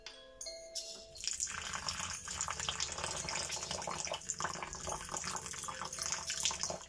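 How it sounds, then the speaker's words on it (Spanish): Bottled water is poured carefully into a vessel, a continuous close trickle and splash starting after a brief faint tone and running steadily to the end. "Ahora cogeremos y vamos a echar un poquito de agua."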